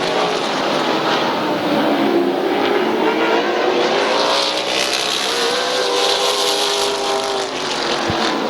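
Race cars roar around Midvale Speedway in the closing laps, a loud, continuous engine drone with shifting pitch as several cars pass close by, no talking over it.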